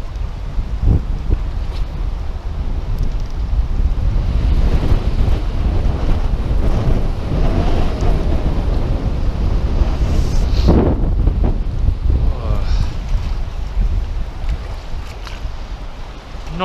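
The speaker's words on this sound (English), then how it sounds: "It's very, very windy." Strong, gusty wind buffets the microphone beside the Upper South Esk River at Mathina, a loud, continuous roar with brief surges and no speech.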